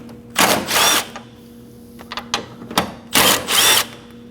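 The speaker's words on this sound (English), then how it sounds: "Using a 10mm socket," Two long bursts of fast ratcheting from a 10mm socket ratchet backing out the intake tube bolts on a 2011-2016 Kia Optima, close and loud, with a few light clicks and handling noises between them.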